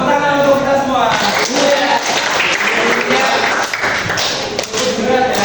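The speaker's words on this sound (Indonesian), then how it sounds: "Oke, tepuk tangan untuk kita semua." Students in a classroom clap their hands together in a loud, dense burst of applause with tapping and thumping, and a voice talks over it.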